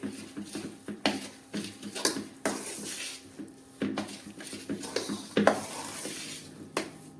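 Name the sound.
stirring milk into sukhdi mixture in a pan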